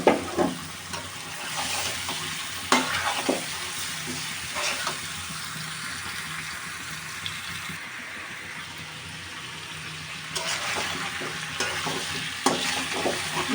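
Snakehead fish is stir-fried with potatoes and onions in a pan, a continuous close sizzle with repeated scraping stir strokes and occasional utensil knocks.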